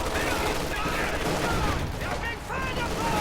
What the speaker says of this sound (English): Anti-infantry strafe called in on the rifleman blob.